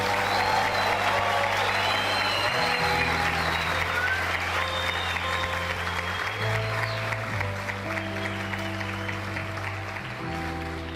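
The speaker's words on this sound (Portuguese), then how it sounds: "você pode dar uma salva de palmas a Jesus." Church congregation giving a round of applause during a service, continuous dense clapping lasting about eleven seconds over sustained organ-like music tones, with faint voices beneath.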